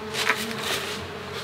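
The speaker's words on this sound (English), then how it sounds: "Here's the bees." Bees hum in a close, continuous buzz at a managed colony, steady and moderately loud with one brief sharper whine near the start.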